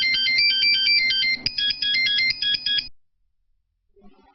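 Electronic phone ringtone playing a bright repeating melodic pattern, loud and steady for about three seconds before cutting off, followed by faint movement.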